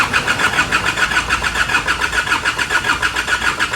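A car engine with a loose, faulty engine mount running close by with a steady, pulsing chug, loud and even throughout with no voices.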